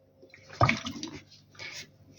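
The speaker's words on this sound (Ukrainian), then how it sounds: "не так, щоб вони аж були як у фритюрі, але так немалечко я наливаю олії" Vegetable oil is poured into a cold frying pan for frying pastries, a gurgling liquid splash in two short bursts followed by a sharp knock at the end.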